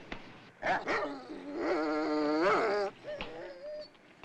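Raffles the dog growls and whines with a drawn-out, wavering vocal rumble, framed by a couple of sharp knocks, close and moderately loud.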